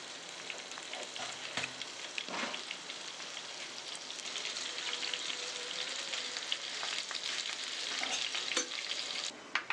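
Mustard seeds sputter in hot coconut oil in a pan with a dense, continuous crackle like rain on a surface. It grows busier and louder over the clip, with sharp pops near the end.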